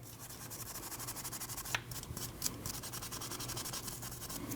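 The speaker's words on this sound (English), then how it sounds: "clean these with a wire brush" A wire brush scrubs the brake caliper slide pins of a Nissan NV2500 in quick, rhythmic, faint rasping strokes, close and continuous with no talk.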